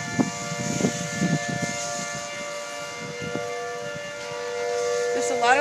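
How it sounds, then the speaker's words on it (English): Tornado sirens wail in Merrill, Wisconsin, two outdoor warning sirens sounding together in a sustained, distant tone that rises into a new sweep at the end, with faint low rumbles underneath. "Now the other siren is sounding along with the other one."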